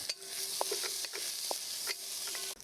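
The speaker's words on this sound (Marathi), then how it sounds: "आता मी इथे एक कांदा घेतला आहे बारीक चिरून, तो घालूया. आणि 1-2 मिनटं आपण ह्याला परतून घेऊया." Finely chopped onion sautéing in hot oil, a steady close sizzle broken by short scraping knocks of a spoon against the pan, with no talk.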